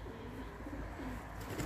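Racing pigeons coo softly in a loft, low murmuring calls repeating a few times in a quiet room.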